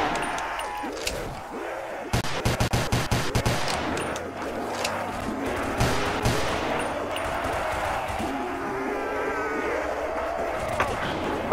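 Pistol gunshots in the Roblox video game ring out as a rapid string of sharp cracks, close and loud, set against a busy, noisy game soundscape.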